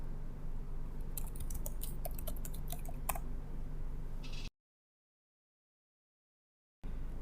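Computer keyboard typing, a quick cluster of light key clicks and taps over a faint hiss, followed by total silence and then the hiss returning.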